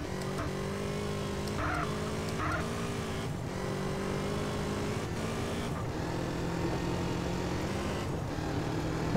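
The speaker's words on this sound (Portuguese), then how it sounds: "Acelera a motinha." A small motorbike engine in a video game revs and accelerates, a steady buzzing drone running continuously under other game sounds, fairly loud and close throughout.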